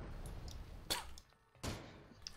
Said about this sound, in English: Oh right, the fucking turrets!